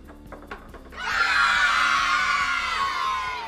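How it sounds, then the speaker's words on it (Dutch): A game-show studio audience bursts into loud cheering and screams after a short stretch of quieter sound, the roar swelling quickly and holding before easing slightly. "Wat een gejuich."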